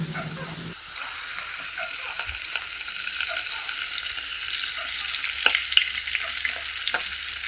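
Steady, loud sizzling and crackling of whole maya-maya fish frying in hot oil, close up, with small pops throughout.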